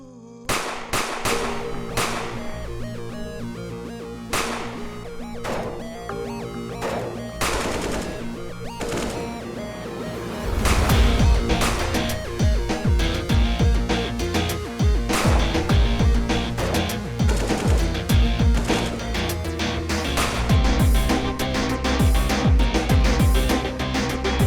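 Sustained gunfire crackles through the whole stretch, rapid overlapping shots and bursts, growing denser and heavier midway, loud and continuous.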